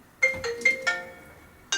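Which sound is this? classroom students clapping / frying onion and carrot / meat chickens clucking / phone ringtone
phone ringtone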